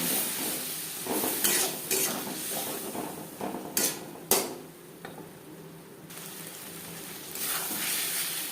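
Spices being stirred in a pan for a Bengali prawn and cauliflower-potato curry, with a small splash of water added: steady sizzling and frying under repeated scraping and clinking of a spoon against the pan, close and fairly loud.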